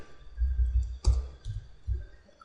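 A few soft keystrokes tap on a computer keyboard while a SQL query is entered, with one sharper click near the middle and low thumps spaced irregularly across two seconds, fairly quiet and close.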